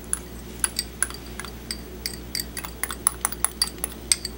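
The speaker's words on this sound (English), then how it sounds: "Okay, whisk that all up." A small whisk clinks steadily against a bowl while parsley, garlic and rosemary are mixed in, giving sharp, light metallic taps in an uneven rhythm, close and fairly quiet with no talk.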